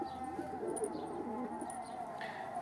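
Young pigeons in a coop give soft, low cooing under steady background hum, with faint chirps and a brief rustle, close by and fairly quiet.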